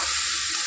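Banana flower and potatoes frying in spiced oil give off a steady, close, loud sizzle as they are stirred together in the pan.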